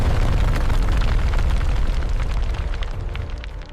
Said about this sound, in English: Explosives break the rock free from the quarry wall.